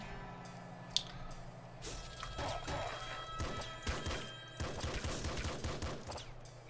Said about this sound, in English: I'm gonna go annihilate that scorpion with this gun.